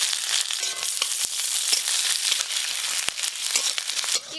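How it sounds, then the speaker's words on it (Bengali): Chopped garlic frying in hot oil in a pan, a steady close sizzle with crackling and a few sharp pops throughout, no voices. "প্রথমে একটু রসুন কুচি ভালো করে ভাজবো, তারপরে পেঁয়াজ কুচি দেব"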